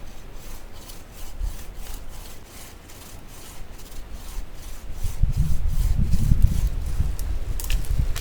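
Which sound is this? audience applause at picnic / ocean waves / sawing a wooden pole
sawing a wooden pole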